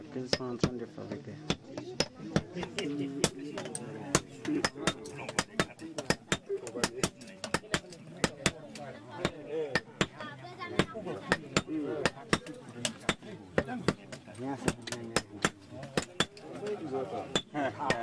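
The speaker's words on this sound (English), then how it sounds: "The anvil, tongs, and hammer are the three essential smith tools." An African blacksmith hammers metal on an anvil in a fast, steady stream of sharp ringing strikes over the whole stretch, with voices talking underneath.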